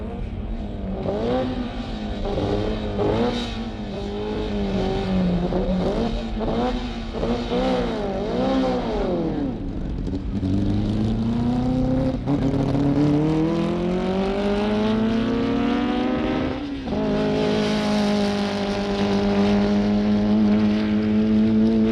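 The Moon Eyes A dragster runs at the 1962 Winternationals drag races, its engine revving hard with rising, wavering pitch sweeps and then a long sustained roar that builds as it charges down the strip.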